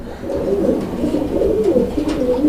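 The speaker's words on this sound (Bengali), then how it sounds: "এই যে দেখেন কবুতর এই ডাক দেখছেন আমি একটু ডাকটা দেখাই আপনাদেরকে" A pigeon coos close by in repeated low, throaty rolling calls that carry on throughout, with no voices over them.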